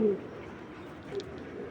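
Racing pigeons coo softly in a loft, low rounded calls close by with a brief higher chirp midway, over quiet background noise.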